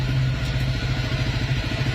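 A Honda Click 125 scooter fitted with a 59mm 160cc big-bore package and racing-profile bell runs on a test, its engine giving a steady, close, rhythmic mid-pitched drone with light mechanical clatter and no talk.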